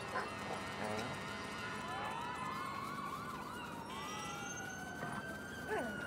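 Police car siren wailing in rising and falling sweeps, fairly loud and steady throughout, with a dog barking and voices talking over it.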